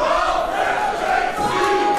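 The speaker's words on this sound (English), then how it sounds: "listen to this crowd" A wrestling crowd at a Pro Wrestling World Cup Canada qualifier show roars steadily as the match begins, a dense sustained cheer filling the arena from start to finish with no letup.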